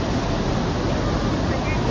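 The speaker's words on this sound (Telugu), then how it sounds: "చూడండి వాటర్ ఎట్లా ఫ్లో అవుతున్నాయో" Water flows steadily from the Sriram Sagar dam on the Godavari at Pochampadu, Nizamabad, a close, broad continuous rush with wind buffeting the microphone.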